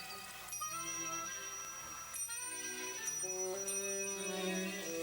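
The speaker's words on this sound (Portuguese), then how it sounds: "ele coloca pequenos sinos que tocarão quando elas passarem" Small bells on an inclined plane ring in sequence as balls roll down the track, soft bright chimes layered over a sustained musical backdrop.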